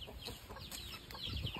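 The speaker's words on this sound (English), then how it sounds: "Oh yeah, there's a rooster." A rooster on a farm clucks and calls in short bursts over a faint, noisy outdoor background, the fowl sounds fairly quiet and mixed with other chicken noises.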